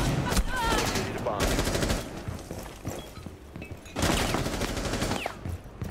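Rapid bursts of gunfire in Rainbow Six Siege, dense fusillades of shots near and loud in several volleys, with players talking underneath.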